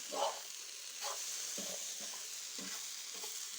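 Potatoes frying in a pan for an egg and potato curry, with soft sizzling and several light stirring scrapes at a steady pace, fairly quiet and close, with no talking.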